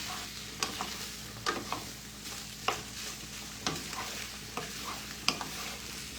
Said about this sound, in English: I wanna kind of mix this with the onion and the garlic so it can start to be cooking in all of this goodness